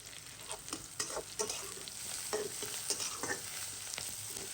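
Onions and chillies fry in hot oil with a steady close sizzle, broken by soft stirring scrapes and taps from a spoon, and no voices.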